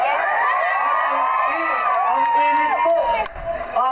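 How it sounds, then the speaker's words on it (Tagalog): A large crowd at a political campaign rally in Batangas cheers and shouts loudly and continuously, with many overlapping voices whooping and yelling close by. "Ang init po at ang lakas ng sigaw nyo sa araw na ito"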